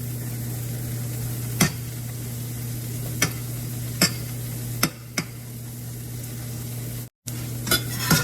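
A pancake cooking on its second side in melted butter makes a soft, even sizzle, punctuated every second or so by light taps and scrapes of a utensil against the pan over a steady low hum.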